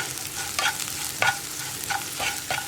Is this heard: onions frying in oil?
yes